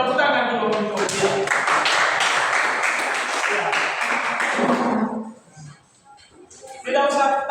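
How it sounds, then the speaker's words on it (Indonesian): A classroom group claps for a student called up to the front, a dense burst of applause lasting about four seconds that fades out, with voices speaking before and after. "Tepuk tangan dulu untuk dia."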